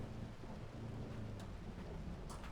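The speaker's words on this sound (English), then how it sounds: "There's some hail." Thunderstorm with hail in a storm-chasing video game: a steady, dense rain-and-storm roar with low rumbling throughout, plus a couple of brief sharp impacts near the end, with no talk.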